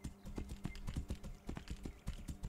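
Horse hooves clip-clopping at a steady, quick rhythm in a Skyrim-like fantasy video game, close and fairly clear, with low game ambience underneath and no talking.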